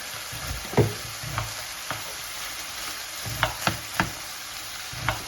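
Liver frying in oil hisses softly and steadily, broken by a few sharp clicks and scrapes of a utensil stirring the pan.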